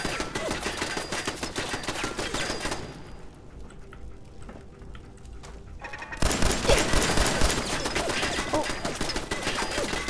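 Rapid bursts of gunfire in the video game Fallout 4, loud and dense, easing into a quieter stretch midway before a heavy barrage resumes.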